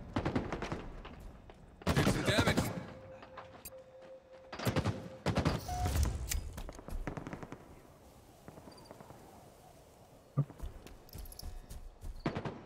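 Gunfire rattles through a video game firefight, coming in clustered bursts of sharp shots that drop away into quieter stretches. Another shot cracks out near the end.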